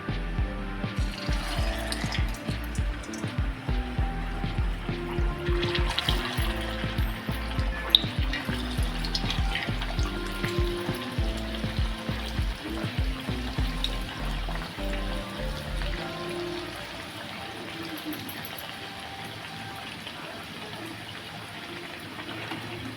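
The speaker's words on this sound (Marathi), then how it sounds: "आता आपण हे तळून घेऊया आपलं तेलसुद्धा गरम झालेलं आहे" Cucumber vadas frying in hot oil, a Maharashtrian snack: a steady, dense crackling sizzle that continues throughout, thinning slightly near the end, with no voices.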